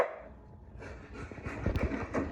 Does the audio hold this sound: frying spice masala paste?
no